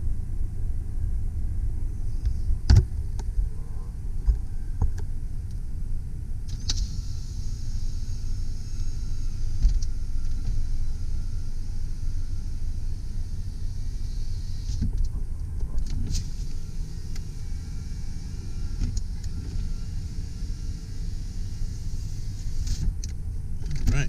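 A 1995 Ford E150 conversion van with 119,000 miles sits with its engine running after a start, giving a steady low idle rumble that stays even and close throughout with no one talking.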